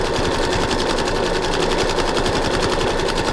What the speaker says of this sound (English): I'm doing the circle and stitching around and around with a nice zigzag and a neutral gray thread